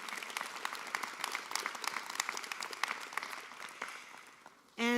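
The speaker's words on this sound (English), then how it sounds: "Let's give them a round of applause yet again." Audience applause for graduates at a university commencement ceremony, a dense patter of many hands clapping that keeps going and gradually thins before a new tone cuts in at the end, with no voices.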